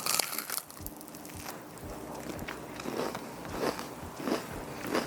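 Someone bites and chews a chewy, crunchy homemade Rice Krispie treat with marshmallows folded in, producing several close, crisp crunching bites spaced over a few seconds against a quiet room.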